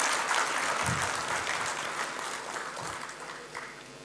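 Audience clapping at a business forum in Nagpur, a dense patter of many hands that slowly fades over a few seconds.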